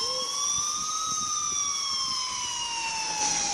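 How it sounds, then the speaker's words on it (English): Police sirens wail from a distance, sweeping slowly up and down in a steady continuous tone over faint background noise. "I finally heard sirens in the distance"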